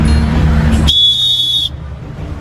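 A referee's whistle sounds in an outdoor game of kippers, one sharp, steady blast lasting just under a second that cuts over low background rumble and then stops.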